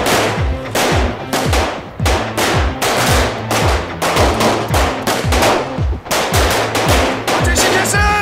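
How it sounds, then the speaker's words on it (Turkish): Rapid automatic gunfire in a TV drama shootout, dense loud bursts of repeated shots in quick succession, close and continuous with only brief gaps, with no talk. "Vurun hepsini."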